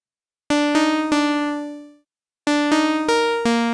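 Bright, buzzy distorted synth plucks in Serum with hyper dimension effect, dimension at 73%, rich harmonics hit in a short rhythmic pattern, one note ringing out and fading before a second burst of repeated plucks.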